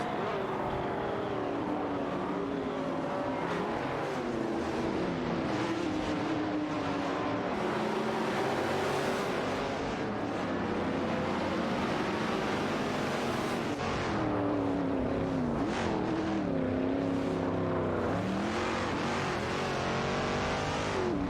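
Race cars in a video game AI race, including a Holden Monaro '73 and a Ferrari 275 GTB/C, roar steadily with shifting engine whines and revs, several cars layered together, loud and continuous throughout.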